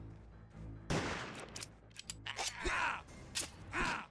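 Rifle shots in the video game Another War crack out as several sharp, loud bursts spread unevenly across a few seconds, with a player talking between them.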